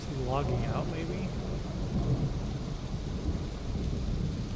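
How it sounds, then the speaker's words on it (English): A thunderstorm with rain in the dinosaur survival game Path of Titans, with low rumbling thunder and constant rain hiss, while a voice briefly talks near the start. "Wow, this is a hell of a storm."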